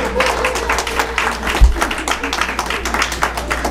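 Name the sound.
audience applause at a political event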